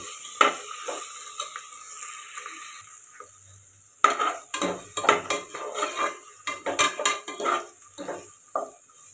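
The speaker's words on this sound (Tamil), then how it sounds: "சேர்த்துட்டு நல்லா கிளறி விட்டுடலாம்." A spoon stirs onions with ginger garlic paste in a pan, a light sizzle under close, repeated scraping and clinking strokes that become busier and more rhythmic halfway through, with no talk.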